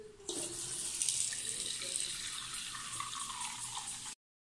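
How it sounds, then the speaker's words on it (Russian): Water runs steadily from a household tap into a container, a loud continuous gush that starts abruptly and carries on unchanged until it cuts off. "Надо набрать воды."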